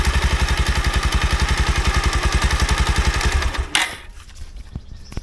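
A Bajaj Pulsar 220F BS3 motorcycle engine idles close by with a steady, rapid thumping beat, then cuts off abruptly near the end, leaving a few faint clicks and handling noises.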